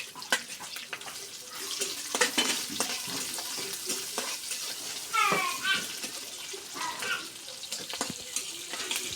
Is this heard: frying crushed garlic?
yes